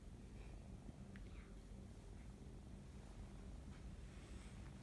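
A pair of new kittens purrs softly, a low, steady rumbling drone that runs without pause, very faint and close, with a few small rustles and no voices.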